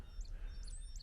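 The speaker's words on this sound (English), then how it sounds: "it's early in the morning and there's red-winged blackbirds here" Red-winged blackbirds chirping in the early morning outdoors beside a field of abandoned old cars, with a few short high calls repeating over a low steady background rumble.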